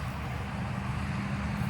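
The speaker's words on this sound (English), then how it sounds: "And really sorry about the traffic, but we are on a very main road." Continuous traffic rumble on a busy main road, a dense steady wash of passing vehicles heard close and fairly loud, with no voices.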